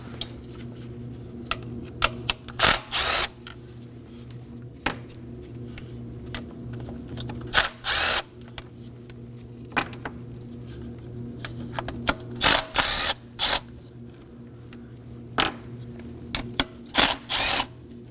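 Power tool backing out 10mm valve cover bolts on a 2.4L four-cylinder Kia Sorento: short, separate whirring bursts spaced a few seconds apart over a steady low hum, with small clicks between them.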